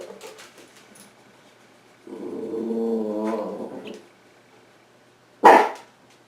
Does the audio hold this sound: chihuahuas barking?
yes